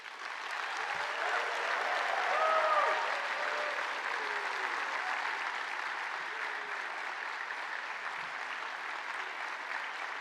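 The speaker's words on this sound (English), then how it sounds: "please express your thanks and appreciation to family, friends and staff with applause and cheers" A graduation ceremony audience applauds and cheers in a large hall for families, friends and staff, a steady, fairly distant wash of clapping that holds for the whole stretch.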